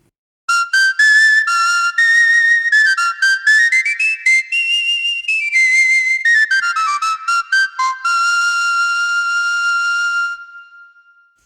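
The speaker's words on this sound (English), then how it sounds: "And here's the ocarina sound from that WinPack 3." A soft, pure, flute-like synthesized ocarina from WinPack 3, played on a wind controller, plays a flowing melody of sustained notes that rise, fall and fade out at the end.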